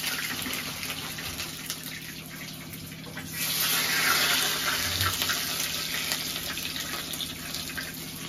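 Readymade tikki deep frying in hot oil gives a continuous crackling sizzle over a low steady hum, swelling louder partway through and then settling.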